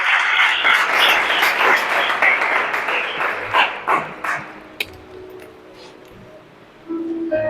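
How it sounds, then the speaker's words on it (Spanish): A church congregation applauds loudly, the clapping tapering over several seconds. A dog barks and yips nearby as it fades. "¿Cuántos dan un fuerte aplauso a aquel que vive y que reina por los siglos?"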